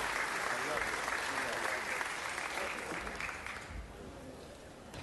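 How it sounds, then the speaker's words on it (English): People applaud in a city council chamber during a meeting, a broad, steady patter of clapping that holds at first, then thins and fades toward the end, somewhat distant, with talk beneath it. "Let's give these great members a round of applause."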